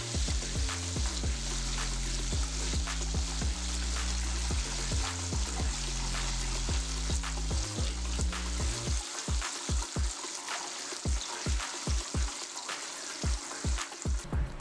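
Chicken pieces frying in hot oil during a second fry at 190 degrees, a loud steady sizzle with repeated stirring clatter in the first half, then sharper intermittent crackles and pops near the end.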